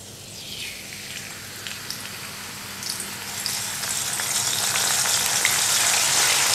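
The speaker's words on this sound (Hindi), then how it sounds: "अब इसको हमने फ्राई कर लेना है तेल में, उसी गरम तेल में।" About thirty-five washed curry leaves dropped into hot oil in a kitchen, a dense crackling sizzle that swells and grows louder over several seconds, with no voices.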